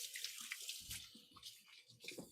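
Running tap water splashing over hands at a kitchen sink during soup making, a close, steady wash with uneven splashes and no talking.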